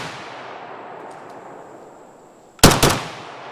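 An AK-74 rifle firing 5.45x39mm through a muzzle brake lets off two sharp, loud shots in quick succession after a quiet stretch, each followed by a short ringing decay.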